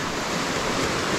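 Surf breaking steadily on a beach after a night storm that washed seaweed ashore, a continuous loud wash of waves with wind buffeting the microphone and no voices.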